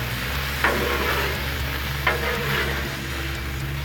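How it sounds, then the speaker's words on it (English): Ground hamburger meat sizzling on a Blackstone griddle, with steady frying crackle and two clear scrape strokes of a spatula sliding the meat across the flat top, close and without talk. "Let's slide all this meat back over."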